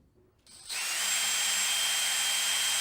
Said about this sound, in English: I'm gonna actually test drilling into it